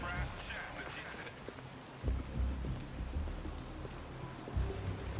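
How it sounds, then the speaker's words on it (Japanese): Steady rain falls in the game Detroit: Become Human, a soft wash of drops over a low rumble that stays fairly faint throughout, with no voices. "よう降る雨だな。"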